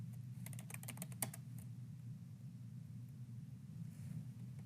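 A burst of quick keystrokes as a password is typed on a computer keyboard, over a steady low rumble of room or machine noise, then the keys fall quiet.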